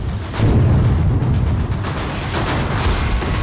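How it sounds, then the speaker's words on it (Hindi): A loud blast erupts after a brief countdown moment, followed by a rolling rumble of debris and crackling that slowly fades, in Pulwama district, Kashmir. "देखिए 5, 4, 3, 2, 1 और जोरदार ब्लास्ट।"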